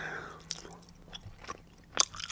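Liquorice being chewed close to the mic, with soft crunchy bites at about 0.5, 1.5 and 2 seconds, the last the loudest, and quiet mouth sounds between them.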